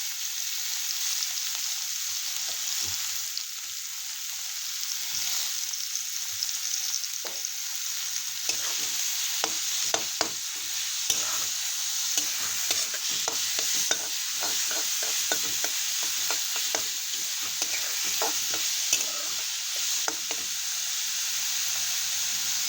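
Grated ridge gourd frying in a pan with turmeric, a steady hissing sizzle throughout with frequent scraping, tapping stir strokes of a spoon against the pan.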